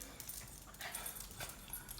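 A dog whimpers in faint, brief whines over a noisy background, with no clear talk.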